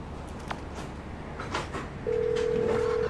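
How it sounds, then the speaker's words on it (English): A phone rings in GTA 5, a steady electronic ringtone tone sounding clearly for about a second over faint game ambience, after a few soft clicks. "Whoa, who changed my ringtone?"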